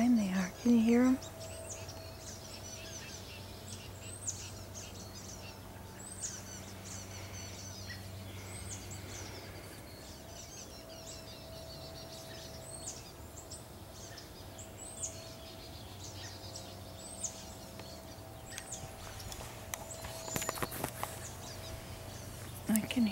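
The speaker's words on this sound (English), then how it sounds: "I can hear lots of birds." One short, clear electronic beep from a MaxxFan controller as the positive power lead is connected rings out in an otherwise quiet moment, followed by a couple of faint clicks.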